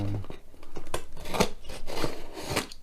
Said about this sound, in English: get yourself a very sharp knife, a little craft knife, or a Stanley knife as I'm using